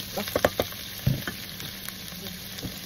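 Cabbage stir-fries for yakisoba with a steady sizzle in the pan, broken by a few sharp clatters and scrapes of stirring, close and fairly quiet.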